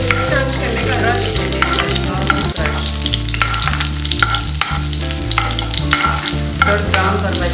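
Crushed garlic sizzling and crackling loudly in a hot pan while being stirred, a steady close-up frying hiss with occasional scrapes and taps of the utensil.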